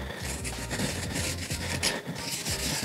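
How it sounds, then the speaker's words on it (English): A brush rubs chalk paint onto a wooden board in a steady, close scrubbing rhythm of short repeated strokes, continuous and fairly loud with no talk. "I'm gonna rub it around on this board."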